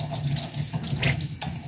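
Water runs from a faucet or hand pump, a loud, steady splashing gush close by that carries on without a break and without talk.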